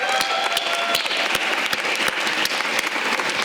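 Audience applause at a Lionsgate community event and signing in Newark, New Jersey: steady dense clapping with sharp individual claps standing out, loud and sustained throughout.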